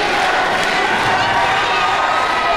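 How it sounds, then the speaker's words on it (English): A dense, loud college crowd roars and cheers continuously at a wrestling show held with Wofford College, with shouts blending into a steady wall of noise. "Why is this crowd cheering for this clown?"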